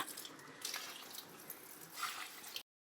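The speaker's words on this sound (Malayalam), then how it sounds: "യാസുമോൻ രാവിലെ ചെടിക്കൊക്കെ വെള്ളം ഒഴിക്കുക" Water poured onto garden plants in the morning, a soft continuous splashing trickle close by with a couple of louder gushes, no voices over it.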